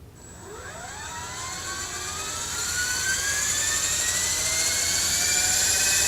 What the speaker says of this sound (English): the helicopter is now starting to take off